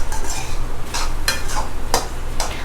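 Spoon stirring red chilli powder and black pepper powder through a hot pan for a vegetable pie filling, loud close scraping strokes in an uneven rhythm over a steady low sizzle, no speech.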